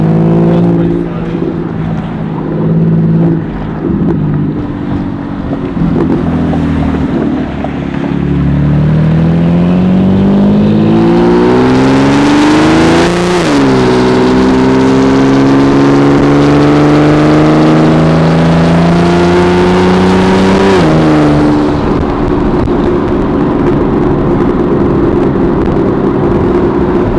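Single-turbo BMW 335i with a hood-exit exhaust driving, its loud engine note climbing through rising revs, dropping sharply at each gear change and climbing again, with a steady drone between pulls.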